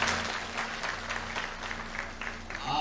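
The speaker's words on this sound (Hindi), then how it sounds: "तालियों से इनका स्वागत करें" A crowd applauds a district collector being welcomed on stage at a Bansal News event, steady clapping from many hands, moderately loud and continuous, with a faint tonal hum beneath.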